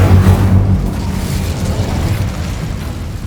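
An Incendio fire spell goes off in Hogwarts Legacy, a loud rumbling burst of flame with a heavy low boom at the start that fades into a steady roar.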